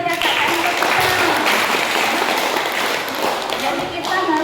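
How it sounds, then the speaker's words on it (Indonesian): Group of students clapping for a speaker at a school guidance session, a dense, continuous burst of hand claps and tapping held steadily for several seconds. "Tepuk tangan lagi buat kakak kita."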